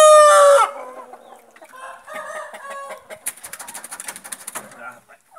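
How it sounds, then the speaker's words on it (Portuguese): A young chicken held up in someone's hands gives a loud hoarse crow-like squawk, then a run of softer, rapid clucks and chirps close to the listener. "Aquele franguinho é bom, né, André?"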